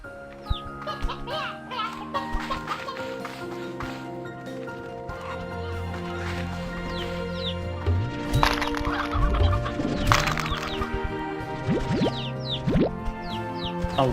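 Chickadee creatures in the video game Slime Rancher 2 make soft, repeated clucking calls over layered game music and bright chimes, continuing through the whole stretch at moderate loudness.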